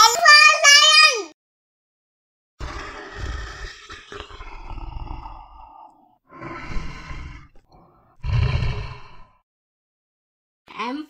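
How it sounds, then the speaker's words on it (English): A roaring lion from a children's alphabet phonics song, heard as several loud, rough roars separated by pauses and starting after a brief high-pitched sung or squealing phrase. "L for lion."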